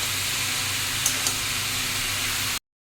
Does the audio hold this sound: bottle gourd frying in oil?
yes